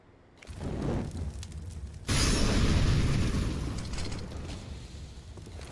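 Grenades go off during a team's push in a Counter-Strike esports match: a mechanical clatter gives way to a sudden loud blast about two seconds in, followed by a sustained roaring rumble that slowly fades.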